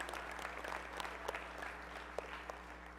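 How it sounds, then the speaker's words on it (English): Commencement ceremony audience at a college applauding steadily for a few seconds, a distant, even wash of clapping over a constant low hum. "give her a round of applause"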